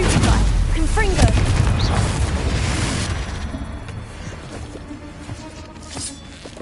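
Booming blasts from the Confringo fire spell in Hogwarts Legacy on PlayStation, a loud rumbling explosion opening the stretch and decaying into quieter crackling and smaller hits.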